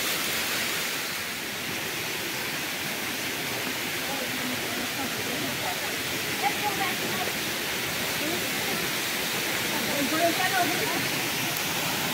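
Steady broadband rush of the waterfall at Cachoeira do Nestor in the Nordeste interior, a constant close, even roar that fills the whole stretch with no breaks.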